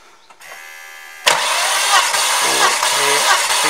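A Volvo turbo five-cylinder engine cranks on the starter during a compression test, a steady rhythmic churning after a short lead-in hum, loud and close.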